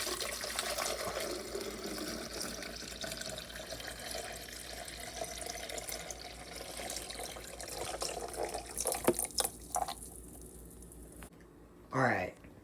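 Water is poured into a coffee maker, a steady close trickle and splash lasting several seconds that tapers into a few faint drips, with brief voice sounds near the end.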